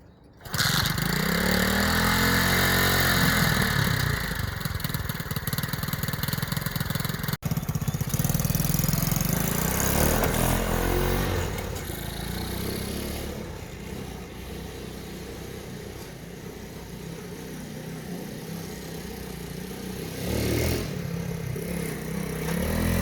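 A small Honda Z50 monkey bike that had not run in a year and a half cranks and starts, then its single-cylinder engine idles and revs unevenly at close range throughout, with no talking.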